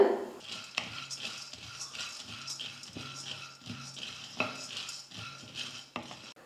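Dry, light rattling and scraping of roasted gram in a metal kadai, with soft stirring clatter and occasional sharper clinks, steady and close throughout.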